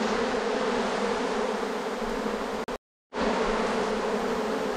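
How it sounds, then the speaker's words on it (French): A swarm of honey bees pours into a small hive box in an attic, making a dense, loud, continuous buzz close by, cut by one brief silent gap, with no voices. "le message passe bien et les abeilles rentrent dans la ruchette"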